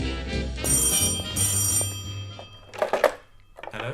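An old-fashioned telephone bell rings in bright repeated bursts, fairly close, followed by a few soft thumps and clatter.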